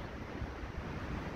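Wind blows through woodland near a mill where trees have fallen, making a steady, full rushing roar with slight gusty swells and no voices.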